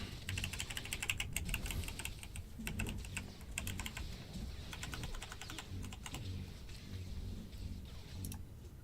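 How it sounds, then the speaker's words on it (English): Rapid, steady clacking of computer keyboard keys during a Star Wars: The Old Republic livestream, dense clicking bursts continuing throughout with no voice. "clicking keys that were on cooldown"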